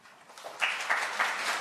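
Applause from an audience at a dementia policy forum swells up after a quieter moment, a steady wash of many hands clapping at moderate volume.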